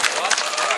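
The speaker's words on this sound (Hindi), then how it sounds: "एक बार जोरदार तालियों से उनका इस्तकबाल करें आप लोग" A brief burst of dense audience applause at a mushaira welcoming a guest, a steady wash of many hands clapping, loud and unbroken for under a second.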